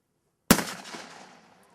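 A single sharp gunshot cracks after a moment of silence at an outdoor hunting competition, followed by a long echoing tail that fades away.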